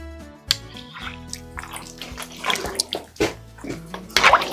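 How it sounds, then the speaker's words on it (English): A spoon stirs Cajun 16-bean soup in a big pot, making wet sloshing and thick liquid churning in irregular bursts, with a few clunks against the pot, all close by. "Going to give that a stir. Combine everything real good."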